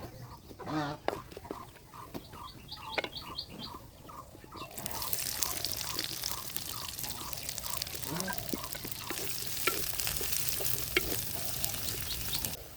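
Whole spices and chopped onion fry in oil in a kadai with a steady sizzle that swells louder partway through, while a rooster clucks repeatedly nearby.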